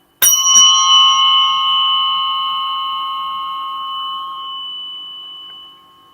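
A tuning fork struck once, its clear, pure ringing tone swelling out at once and then lingering for several seconds as it slowly fades, heard alone with no talking.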